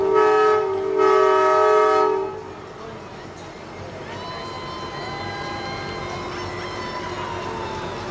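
A loud truck horn blares in two long blasts at a small-town Christmas parade, followed by music and crowd noise carrying on beneath.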